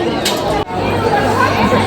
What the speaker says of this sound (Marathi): बघा भयंकर गर्दी आहे